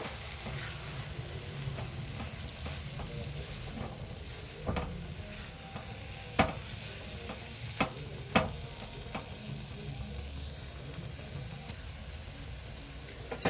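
Grated khoa kheer being stirred into carrot halwa in a wok, a continuous low sizzle with occasional sharp scraping clicks of the spoon against the pan.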